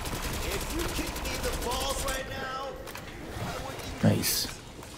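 Gunfire from the Black Ops 6 Zombies video game on the Liberty Falls map, a dense run of rapid shots over game noise with a voice talking throughout, then a sharper burst near the end.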